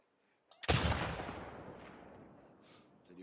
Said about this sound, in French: Faut que je leur tire dessus